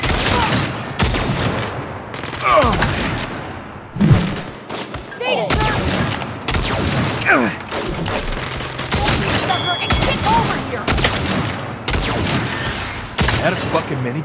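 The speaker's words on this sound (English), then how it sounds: "Is that a fucking minigun? That is a fucking minigun!" A minigun firing in the video game Saints Row: rapid bursts of heavy gunfire in repeated volleys amid explosions and thuds, with people shouting over the shooting.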